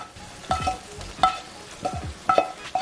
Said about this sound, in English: Alright, I'm going to add my seafood